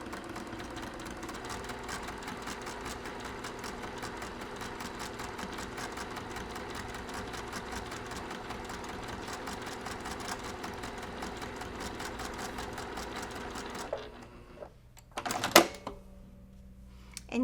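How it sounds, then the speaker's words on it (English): A sewing machine fitted with an open toe foot runs steadily at a 2.5 stitch length, topstitching along the brown edge of a cross-stitch mug rug for about fourteen seconds, then stops, followed by a few faint handling clicks. "I'm using an open toe foot, and I'm just going to stitch right on the edge of the brown"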